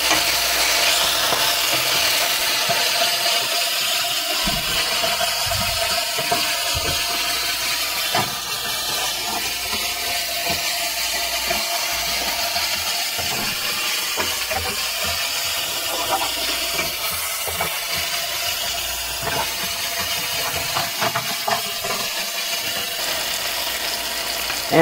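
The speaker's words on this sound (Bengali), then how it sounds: "এটাকেও আমি পেঁয়াজের সঙ্গে একটু ভেজে নেব, এই কাঁচা গন্ধটা সরে যাওয়া পর্যন্ত" Ginger paste and onions fry together in a pan with a steady, close sizzle and hiss that runs throughout, broken by occasional stirring scrapes.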